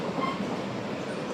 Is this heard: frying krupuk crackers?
no